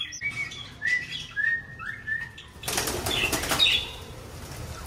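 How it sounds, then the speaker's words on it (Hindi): Pigeon flapping its wings in flight, a burst of whirring wingbeats midway, close by, amid chirping and whistling birdsong. "ये देख कबूतर किधर से किधर पहुंच रहा"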